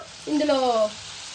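Spices sizzle in a hot pan for a bitter gourd pickle, with a steady close frying hiss and a brief tonal squeal in the middle before settling back to a quieter crackle.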